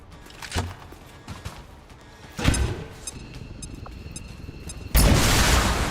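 In the video game XCOM 2 a frag grenade goes off as a loud burst, with smaller booms and impacts before it and a sustained roar of debris after the blast.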